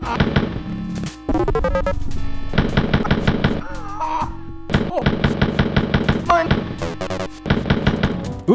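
Rapid, crunchy gunfire from early first-person shooter games crackles in repeated bursts, layered over chiptune-like music and synthetic game effects.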